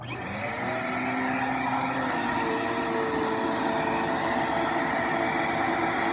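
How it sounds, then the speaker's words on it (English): A vacuum cleaner runs continuously, its motor whine rising as it starts and then holding a steady, loud drone throughout. "go to your vacuum cleaner, turn the part on"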